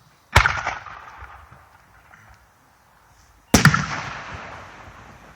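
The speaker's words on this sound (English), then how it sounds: "Gold flashing cylinder with blue pistol." Two loud firework shell bursts, a gold flashing cylinder with a blue pistol, each a sharp crack followed by a long crackling, fading tail, spaced about three seconds apart at a fireworks demonstration, no talk.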